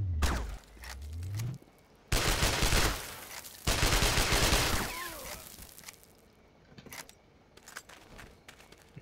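Gunfire in the night-time video game Sniper: Ghost Warrior, with loud bursts of rapid shots in two main volleys followed by quieter scattered rattles and clicks.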